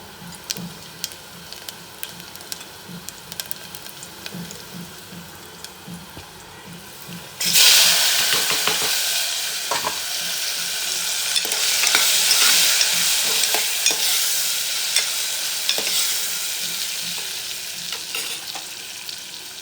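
Garlic hits hot oil with a sudden loud sizzle, and the frying then settles into a steady hiss as vegetables are stirred in a home kitchen pan. Only quiet clatter comes before it.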